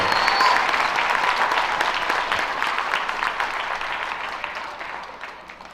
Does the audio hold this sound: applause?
yes